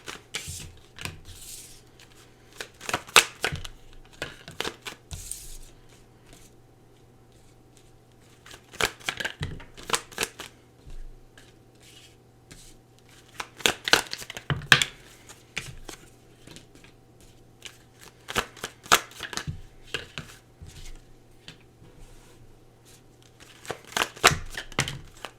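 Tarot cards being shuffled by hand in short, crisp riffling bursts separated by pauses, close up over a low steady hum, with no talking.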